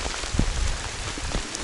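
Rain falls steadily during a thunderstorm on a mushroom-hunting walk in the woods, a close, dense patter with scattered heavier drops hitting nearby surfaces and no talk.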